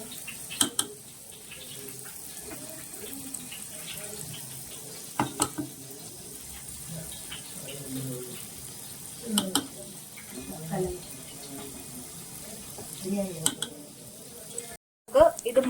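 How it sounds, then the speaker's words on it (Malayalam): Unniyappam batter is poured a little at a time into hot oil in an unniyappam pan, giving a faint, steady sizzle with occasional clinks of a spoon against the pan, while a voice talks over it. "ഇനി കുറേശ്ശെ നമുക്ക് ഈ ഉണ്ണിയപ്പ കാരയിലോട്ട് ഇത് ഒഴിച്ചു കൊടുക്കാം"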